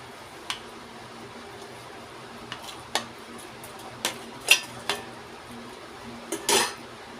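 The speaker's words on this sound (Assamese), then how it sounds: "এতিয়া ইয়াত মই পনীৰখিনি দি দিম।" Paneer goes into a pot of milk boiling over a gas flame, heard as a few sharp metallic clinks and taps of a spoon against the pot, spaced irregularly over a quiet background, with a soft splashy scrape near the end.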